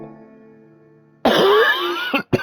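A man's sudden harsh cough and throat clearing, close and loud, following a stretch of quiet background tones.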